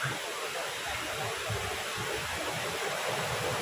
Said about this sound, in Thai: จะได้ยินเสียงน้ำตกตลอดเวลาเลยครับ